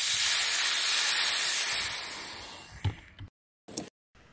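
FX Crown air rifle being filled from a compressed air tank, a loud steady hiss of rushing air that fades away, followed by a couple of brief clicks and soft handling noises, with no voices.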